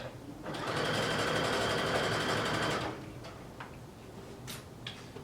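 A sewing machine runs in one steady stitching burst for about two and a half seconds while a fabric casing is sewn, then stops, leaving small clicks and handling taps.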